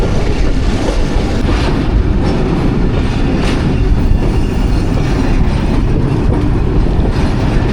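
A Millat Express passenger train runs on rails near a station in Pakistan, giving a loud, steady close rumble with faint clickety-clack and brief wheel squeals throughout, no voices.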